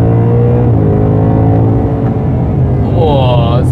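A 2024 Ford Mustang GT with a 5-liter V8 engine revs loudly throughout, with a deep steady rumble that climbs in pitch toward the end.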